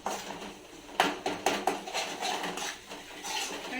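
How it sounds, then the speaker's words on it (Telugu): Spoon scraping and clinking against a pan while egg chili fry is served onto hot rice in a home kitchen, several sharp metallic taps close by over a steady background hiss, no talking. "ఇప్పుడు వేడి వేడి అన్నంలోకి ఎగ్గు కారం వేస్తున్నాను"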